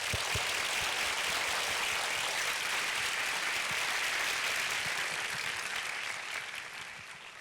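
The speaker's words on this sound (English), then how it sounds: "Please join me for a big applause to welcome both" Sustained audience applause in a university lecture hall, welcoming the speakers at a 2015 public lecture with Muhammad Yunus; dense, steady clapping throughout that tapers slightly near the end.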